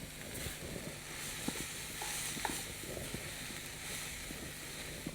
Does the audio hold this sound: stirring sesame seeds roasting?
yes